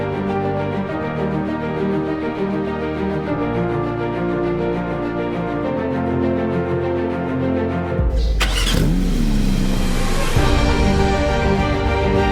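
A Porsche 992 GT3 engine idles with a deep, steady hum, then surges into a sharp, loud rev before settling into a higher drone, heard up close with no talk.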